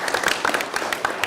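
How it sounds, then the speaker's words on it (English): Applause at a Board of Education meeting, a brief spell of scattered hand clapping from a modest audience in a room, moderately loud and without speech. "Let's give her a round of applause."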